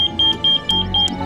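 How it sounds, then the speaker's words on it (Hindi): Electronic temperature alarm on an insulated box, repeating short high-pitched beeps in a steady rhythm, loud and close with no talk over it. "इस बॉक्स का टेम्परेचर बढ़ रहा है और ये उसी का अलार्म है।"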